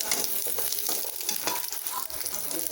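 Shallots and coconut pieces sauté in a pan for a mushroom salna, a dense, crackling sizzle with busy stirring scrapes throughout and no voices.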